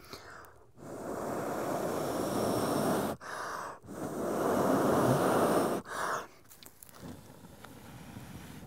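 Long, strong breaths blown out steadily close to the mic, as when blowing a charcloth ember into fire, three sustained gusts separated by short pauses.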